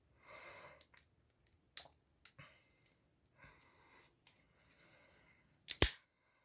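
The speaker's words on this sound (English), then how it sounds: "Good solid clicking when it shuts." Clicks from a Bibury Pliers Pro multitool, a Leatherman Surge clone, snapping shut: a few scattered soft clicks, then one loud sharp snap near the end, recorded close with no talking.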